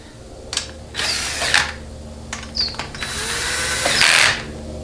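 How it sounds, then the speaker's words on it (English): A power tool runs down bolts on a 6R80 transmission case in several short whirring bursts, close and loud, separated by brief pauses, the last burst the longest. "I'm just going to run these bolts down with literally the most minimal amount of torque that I can"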